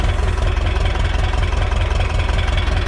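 A tractor engine idles in a steady, loud, close rumble with an even low-pitched chugging pulse, running alone without any voices.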